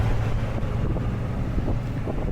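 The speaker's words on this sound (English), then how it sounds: "The wind was really gusting it." Strong gusting wind in a sandstorm roars across the microphone as a heavy, low, buffeting rumble that stays loud and continuous throughout.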